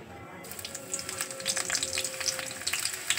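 Garlic frying in oil before Bombay duck fish goes in, a close, crackling sizzle with scattered sharp pops that grows busier and louder, no one speaking.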